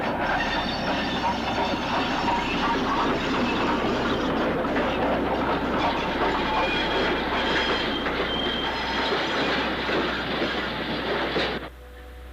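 A BR 9F steam locomotive, number 92073, rolls through a station with a train, heard from the opposite platform as a loud, continuous rumble with clanking wheels and squealing that stays steady before cutting off abruptly near the end.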